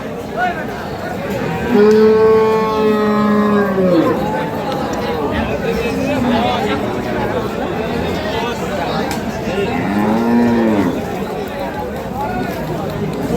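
Cattle moo loudly nearby at a cattle market in Ambari, long drawn calls repeated a few times, including a calf, amid background crowd chatter and voices.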